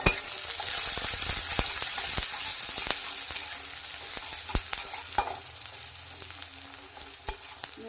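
Chopped chilies and garlic fry in oil for radish greens, producing a close, continuous sizzle studded with sharp spitting pops that eases slightly toward the end.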